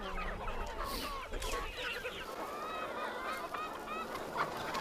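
Chickens on a farm of about 6,000 birds being fed live insect larvae, with dense overlapping clucking and squawking from a large flock throughout.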